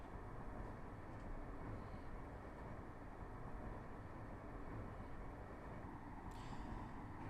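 A train in the simulator game Train Drive ATS rumbles steadily with a dense low roar throughout, briefly joined near the end by a higher hiss or squeal.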